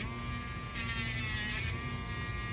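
A Dremel rotary tool grinding a dog's nails at home, a steady high electric whine with a brief rougher grinding stretch as it touches the nail, close and continuous.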